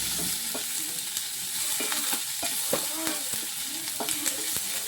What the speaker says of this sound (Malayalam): സവോളയും കൂടി ഇട്ട് കൊടുക്കാം എല്ലാം കൂടി ഒന്ന് നന്നായിട്ടൊന്ന് ഇളക്കി കൊടുക്കുക